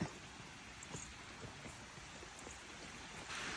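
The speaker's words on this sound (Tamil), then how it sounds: "தண்ணி சவுண்டு ரொம்ப க்ளோஸாக கேட்குற ஒரு இடமா இருக்குது ஆனால் தண்ணியை பார்க்க முடில" Unseen water flowing close by near a cave on a hilly trek around Tiruvannamalai, a faint, steady rushing hiss with soft, scattered splashing ticks throughout, heard alone without voices.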